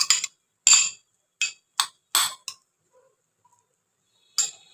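Egg and salt whisked in a bowl with a utensil for an egg roti wrap: sharp clinking taps in short bursts with pauses, fairly close, no talk.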